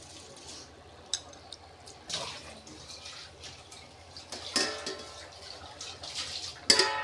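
Quiet bubbling and watery gurgles from a pot of water coming to a boil for biryani rice, with soft splashes and a few louder bursts near the end.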